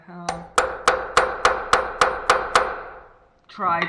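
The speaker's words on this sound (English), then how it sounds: "Let me see if I can get them by a little tap." A hammer strikes stuck bolts on a junkyard Ducati Multistrada 620 motorcycle, giving eight sharp metallic taps at a steady rhythm, close and loud, each clang ringing briefly before the next.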